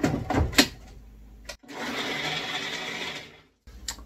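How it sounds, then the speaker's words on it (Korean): A blender whirs while mixing a protein shake, a steady, moderately loud grinding drone lasting about two seconds after a few short clunks, then cutting off abruptly. "자, 그러면 갈아 마시도록 하겠습니다."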